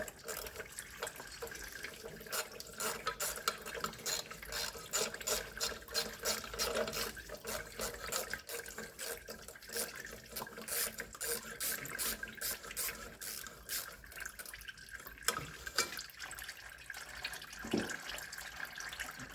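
Automatic gearbox fluid draining from a Mercedes Vito, a steady continuous trickling pour of liquid with fluctuating splashy texture that runs throughout, heard close and fairly quiet.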